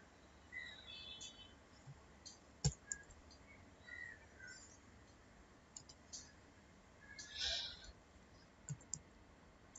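Computer mouse clicks while building a Blogger site, a few sharp, faint clicks scattered irregularly over a quiet room background.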